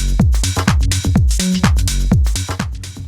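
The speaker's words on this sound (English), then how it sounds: "you can really hear how that clap and that shaker just sort of sit under the mix" House music track with a clap loop and shaker loop layered over punchy kick drums, a steady four-on-the-floor rhythm with sharp repeated hits and a brief melodic tone midway, loud and driving.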